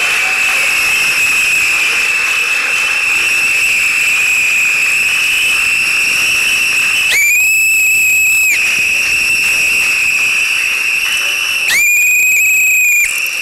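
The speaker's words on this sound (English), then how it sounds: "I'm blowing my whistle too" Whistle blown at an outdoor rally, a loud steady shrill tone held for several seconds, with two sharper louder blasts breaking in later, close to the microphone with no talk.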